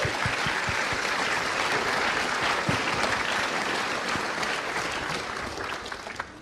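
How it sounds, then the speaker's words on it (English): Loud, dense applause from a large audience at a spiritual disclosure conference, filling the space continuously and tapering slightly near the end. "Give him a big round of applause."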